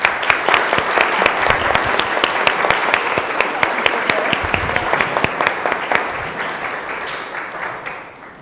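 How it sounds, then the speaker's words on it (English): Congregation applause at a religious education milestone and coming-of-age service, many hands clapping loudly and steadily with crisp individual claps audible, then thinning out and fading toward the end. "a round of applause"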